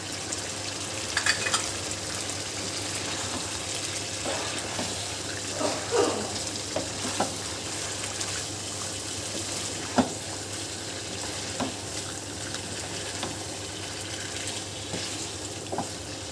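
Chicken karahi stir-fried dhaba style with garam masala gives a steady sizzle and crackle throughout, with scattered clinks and scrapes of stirring and a brief splash or tap-water sound mixed in; no voices.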